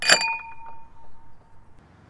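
Real glass wine glasses in a three-glass holder inside a teardrop trailer clink once sharply, leaving a bright ringing tone that fades over about a second.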